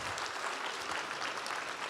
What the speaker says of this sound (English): or a huge round of applause